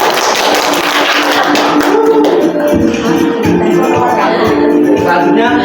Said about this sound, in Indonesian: Dan tepuk tangan Mbak Kolinda.